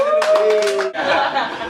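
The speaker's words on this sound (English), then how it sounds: "give a round of applause for Andrew." Brief burst of audience clapping on a talk-show set, loud and close, mixed with laughter and voices throughout the short moment.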